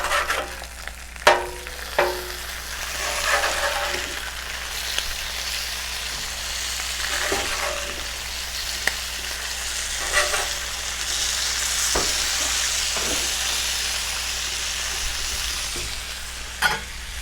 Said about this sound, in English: Let's go ahead and flip these bacons.